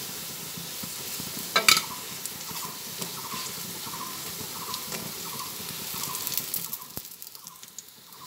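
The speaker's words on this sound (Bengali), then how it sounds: "এক এক করে বড়াগুলো তেলের মধ্যে দিয়ে ভেজে নিচ্ছি" Lentil fritters (bora) sizzle and crackle steadily in hot oil in a pan, a close, continuous frying hiss with a sharp clatter near the start.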